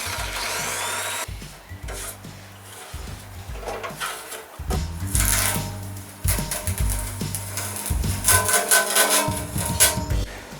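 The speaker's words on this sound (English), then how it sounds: "I used the drill just to widen the holes a little bit to help with alignment" An electric drill widens mounting holes in an e-bike frame mount for an 8 kW enduro build, giving a steady, close grinding whir with pulses that rise and fall as the bit bites and eases.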